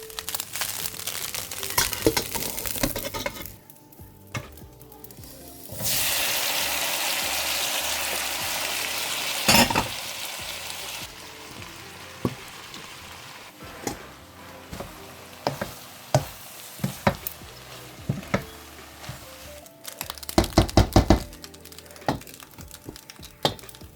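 Fried rice sizzling in a pan for a party meal, a steady hiss and crackle that swells and dips, broken by sharp clacks and scrapes of stirring, close and fairly loud with no talking.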